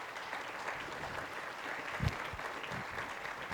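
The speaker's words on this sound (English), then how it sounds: "let's join in giving one more round of applause to Dr. Fraley" A summit audience applauds a keynote speaker, an even, fairly quiet patter of many hands clapping throughout, with a soft thump near the middle.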